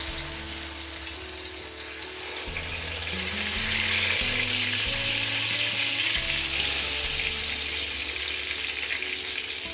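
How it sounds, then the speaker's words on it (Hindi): Shami kabab patties frying in hot ghee in a pan, a steady, loud, close sizzle and crackle that holds throughout and grows slightly fuller midway, with no talk. "तो इसको हम फ्राई कर लेते हैं। पैन में घी हमने गर्म होने के लिए रख दिया"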